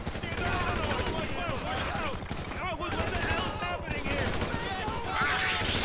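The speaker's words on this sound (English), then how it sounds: "he shot he shot discount Obama right in the fucking head" Rapid bursts of gunfire from Grand Theft Auto V crackle throughout, mixed with game sounds and heard under excited talking.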